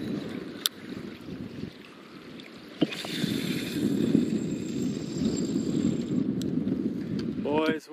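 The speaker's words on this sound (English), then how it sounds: "It's windy." Steady wind rushes over open water during paddlefish fishing, with gusty buffeting on the microphone, a few knocks and a brief voice near the end.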